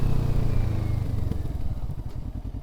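A 2024 Kawasaki Vulcan S 650 cruiser motorcycle accelerating with a rising engine drone that holds steady and loud, recorded close on the ride with rumbling mechanical clatter and no talking.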